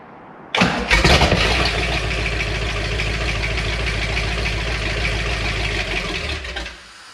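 A Big Block Chevy engine cranks briefly, catches and roars to life, then holds a loud, steady idle for several seconds before cutting off.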